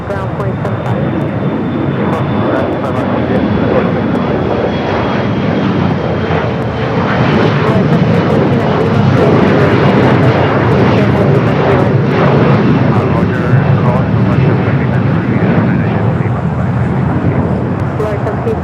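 Aircraft engine noise at LAX, a steady loud roar of a jet airliner on or near runway 25 right, continuous throughout with faint radio voices over it.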